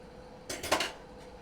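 A metal lid is set onto a pot of Salisbury steak gravy simmering low on the stove, giving a brief quiet clatter of a few quick clinks with no talking.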